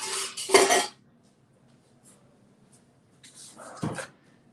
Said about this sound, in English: grab another spoon